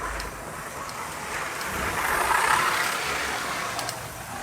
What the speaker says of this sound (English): Now give the other two cars a go, see if there's any difference in performance.